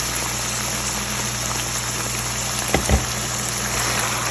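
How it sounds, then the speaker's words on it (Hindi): Water poured into frying qeema masala in a pan hisses in a steady, broad sizzle, with a couple of brief louder bubbling bursts near the end. "यहाँ पे हम कर रहे हैं भुनाई, इसमें थोड़ा सा हम पानी शामिल करेंगे"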